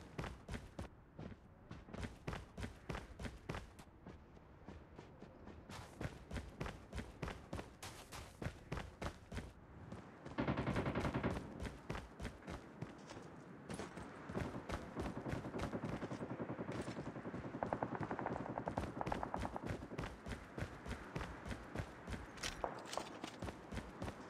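Rapid bursts of automatic gunfire crackle in Call of Duty Mobile on the Safeguard Sea Side map, aimed at a robot, with steady rhythmic shots continuing almost nonstop, brief pauses and denser overlapping fire in the middle stretch.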